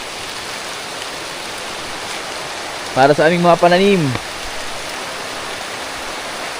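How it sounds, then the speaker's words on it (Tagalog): Steady rain falls over a crop garden, a dense, even hiss that runs throughout while someone speaks briefly in the middle. "Thank you, Lord, sa ulan."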